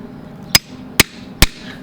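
A hammer strikes a punch to set a snap rivet on a DIY screen door for a van conversion, giving three sharp, loud, evenly spaced metallic blows with quiet between them.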